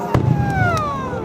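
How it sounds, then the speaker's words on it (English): Fireworks burst in a short sequence of three sharp bangs, with voices nearby as the display is watched outdoors. "What do you think of these fireworks, Ember?"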